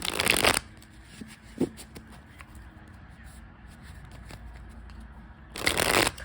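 Tarot deck shuffled in quick riffling bursts at the start and end, loud and close, with scattered soft card taps and handling noises in the quieter middle stretch.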